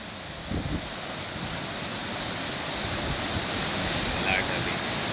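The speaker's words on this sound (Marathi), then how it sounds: "वाऱ्याचा आवाज आणि तशी शांतता पण आवाज भरपूर असतो, लाटांचा आवाज" Ocean waves and wind on the Konkan coast during shore fishing: a continuous broad roar of surf and gusting wind, fairly loud and steady, with a low thump of breaking water early on.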